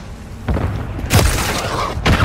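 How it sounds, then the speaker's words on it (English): Cruise missile strikes in a Call of Duty Modern Warfare 3 hardcore Hardpoint match: three heavy booming blasts land about half a second apart, each a deep broadband thud with rumbling tail, loud and close with no talk over them. "Hostile cruise missile incoming."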